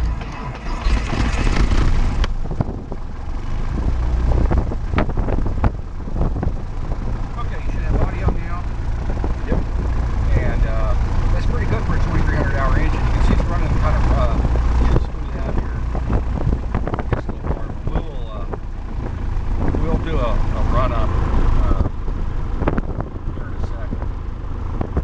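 A small aircraft's piston engine runs up on the ground before flight, giving a loud, steady, close drone with wind buffeting and occasional fluctuations, while a voice talks over it.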